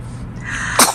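A newborn baby's single sharp sneeze bursts out near the end after a moment of quiet, close and fairly loud.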